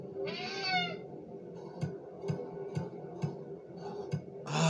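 Cats meow repeatedly in the video game Friday the 13th Killer Puzzle, a drawn-out meow followed by a steady series of short, evenly spaced meows over a low background hum, with no talking.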